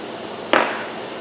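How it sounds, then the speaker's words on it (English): A single sharp metallic strike as a large hammer knocks a shaft loose from the wheel hub of a 1999 Jeep Grand Cherokee, a bright ringing clang that decays quickly in a quiet workshop. "we're just going to knock this shaft through with a large hammer, just to break it loose from the hub"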